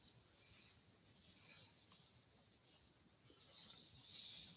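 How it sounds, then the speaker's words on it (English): Glue being rubbed down onto a paper card by hand gives soft, continuous, close-up friction with faint papery hiss, very quiet throughout. "Rubbing the glue down."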